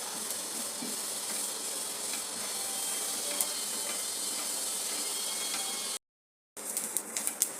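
Unpolished sesame seeds dry roasting in a pan over a low flame, giving a steady, close hiss with fine continuous crackling and small pops, broken by a brief silent gap before the crackle resumes.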